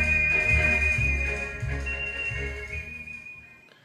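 Recorded music plays from an Akai GX 4000D reel-to-reel tape deck, a sustained melody with a steady high tone and a pulsing low beat, fairly loud and slowly fading.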